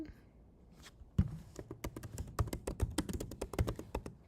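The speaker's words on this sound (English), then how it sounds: "So let's go to images. Type in" Typing on a computer keyboard to search in Cricut Design Space, a steady run of rapid close key clicks after a short pause, clear and with no talk over it.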